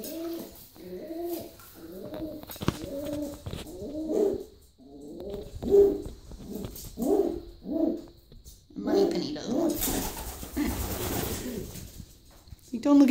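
Pet pigeons or doves cooing near their nest indoors, a run of soft rhythmic low coos repeated about a dozen times, close and clear, with a brief rustle toward the end.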